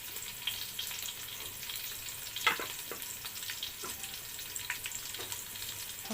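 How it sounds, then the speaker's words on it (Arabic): Spices and a cinnamon stick toast in a hot pan, giving a soft steady sizzle with occasional stirring scrapes and light clinks, close and fairly quiet. "انا عايزه التوابل دي تتحمص واشم ريحتها"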